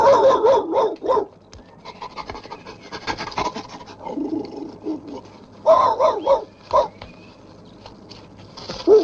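A dog named Rusty barks in short, sharp bursts at moderate distance, with scraping and rustling sounds between the barks in an older film scene.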